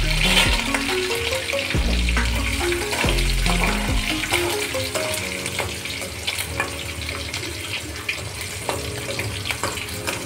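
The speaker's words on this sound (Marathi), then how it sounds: "आपले शेंगदाणे फ्राय झाले" Peanuts fry in a pan with cumin and mustard seeds, giving a continuous close sizzle with repeated scraping stirs and clinks against the pan.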